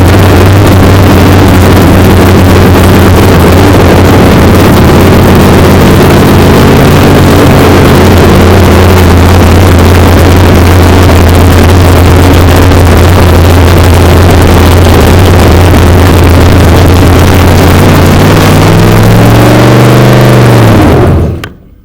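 A Hemi car engine runs loud and close with a heavy, continuous rumble and steady idle for about twenty seconds before it shuts off and winds down.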